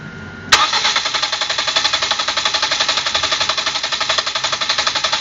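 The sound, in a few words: car engine cranking with injectors disconnected, compression test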